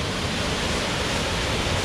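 A waterfall on Vancouver Island spills over contoured rock among ferns, making an unbroken, even rushing roar that fills the scene with no pauses and no voices.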